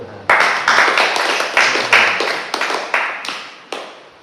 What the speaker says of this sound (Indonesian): Kita tepuk tangan untuk Tuhan.